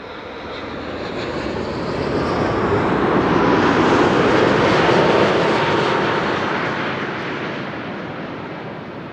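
A KLM Boeing 787-10 Dreamliner arriving at Amsterdam Schiphol, its loud broadband engine roar swelling to a peak midway and easing off as it passes close by.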